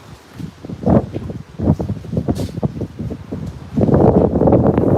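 Strong typhoon wind on a rooftop in Taiwan buffets the microphone in rough, irregular gusts, swelling into a louder, steadier roar over the last second, with no voices.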